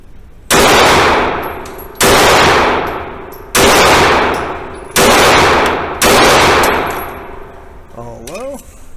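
Five loud, sharp shots from a Remington R51 Gen 2 pistol loaded with 115 grain rounds, fired singly about a second apart, each with a ringing decay, followed by a faint metallic clink at the end.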